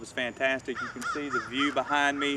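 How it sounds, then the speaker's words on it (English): Crows caw loudly and repeatedly at a waterside golf course, the harsh calls mixing with and overlapping someone speaking nearby. "You'll hear some of the birds chirping and talking and squawking as I'm going through this video."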